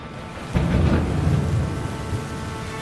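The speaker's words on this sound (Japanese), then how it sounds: "激しい雨の日でした。" Thunderstorm with heavy rain on a stormy day, a deep rumbling thunder roll swelling over a steady wash of downpour, loud and close with no voices.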